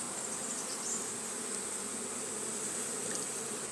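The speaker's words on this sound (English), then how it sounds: "Fortunately these bees are fairly calm and docile." Honeybees from a calm, docile colony swarm around an open beehive, filling the air with a dense, steady buzz, continuous and close, with no voices.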